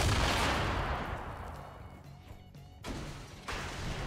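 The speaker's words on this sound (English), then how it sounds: "That's me throwing nades." Grenades go off in a Fortnite Battle Royale match, a heavy booming blast rolling out and fading, followed by further dull thuds and rumbling impacts close by.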